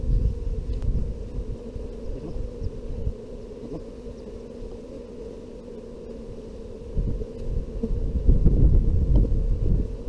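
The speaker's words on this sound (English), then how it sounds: "All the flying bees will come back to this hive." Honey bees fly around a hive during beekeeping work, giving a low continuous buzzing drone close to the microphone, swelling and easing in intensity with some rustle and handling noise mixed in.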